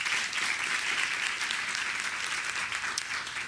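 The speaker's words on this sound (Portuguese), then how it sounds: "Uma salva de palmas para Andrés Ramírez." Sustained applause from a conference audience at a Brazilian panel discussion on migration, dense steady clapping filling the room at a constant loud level from start to finish.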